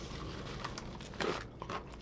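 Crunchy sweet chili peas crack and crunch between the teeth in a few soft, close bites with light crackling, heard over a faint steady background.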